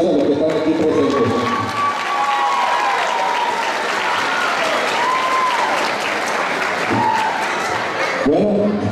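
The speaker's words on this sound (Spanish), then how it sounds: "un aplauso a los que están aquí presentes" Sustained applause from a crowd gathered at a patronal festival celebration, steady and full throughout, with scattered voices and cheers mixed in among the clapping.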